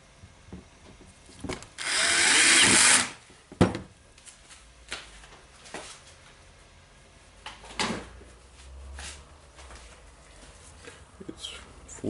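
A repaired Makita DDF456 18V cordless drill gives one brief, loud, high whir of about a second, set among scattered clicks, taps and handling knocks on a work surface.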